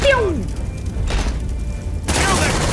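Gunfire in the sci-fi video game Aliens: Dark Descent, a loud burst of shots, booms and sharp cracks in a busy combat moment.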